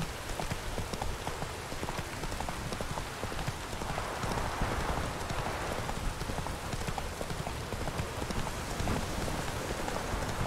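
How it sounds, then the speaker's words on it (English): Drizzling rain patters steadily in The Witcher 3 video game, a soft continuous hiss of drops with horse hooves clopping along beneath it. "Oh, it's drizzling."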